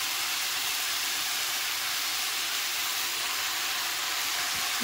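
Vegetables sizzle while being sautéed in a pan for a Bengali pumpkin-greens dish with morola fish, a steady, loud, broadband hiss that holds evenly throughout with no talk.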